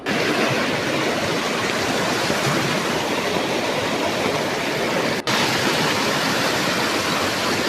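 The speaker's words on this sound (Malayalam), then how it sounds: "ഒരു ചെറിയ കൊല്ലിയാണ് എന്നാലും മഴ പെയ്യുമ്പോൾ നല്ല വെള്ളം കയറൂടെ" A small stream rushing steadily in a continuous, loud broadband wash of flowing water, close by, with a momentary dip near the end and no talking.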